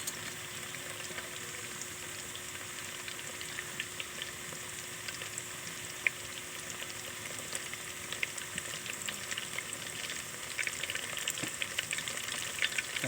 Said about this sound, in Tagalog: hinayaan ko muna siyang maprito ng konti or masangkot siya sa mantika